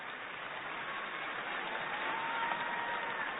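An audience at a national Christmas ceremony in Indonesia applauds in a steady, even patter of clapping, heard faint and distant with no break.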